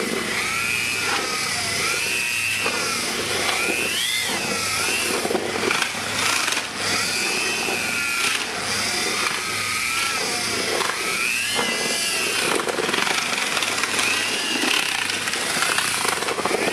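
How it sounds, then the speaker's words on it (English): A mud mixing drill blends resin with pebbles in a metal tub, its whining motor rising and falling in pitch as it churns the gritty mix, loud and continuous with no talk. "Mix the resin in thoroughly with a mud mixing drill."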